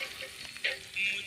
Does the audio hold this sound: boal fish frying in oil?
yes